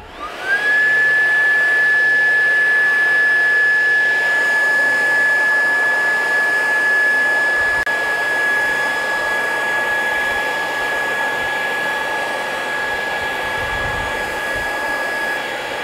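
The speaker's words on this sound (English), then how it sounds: "Now that I got the blower attached, let's see how well it cleans up this wet dirt from the edger." Steady high-pitched whine and rushing airflow from an Echo DPAS-2100SB 56V battery power head with blower attachment, blasting wet dirt off after edging; loud, continuous and close throughout with no pauses.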